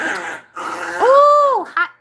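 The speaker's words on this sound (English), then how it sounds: "I'm listening to my dog get mad at my son" A pet dog growls and whines in a domestic setting, a rising, drawn-out tonal snarl following rougher grumbling, close and fairly loud, ending in a short sharp yip.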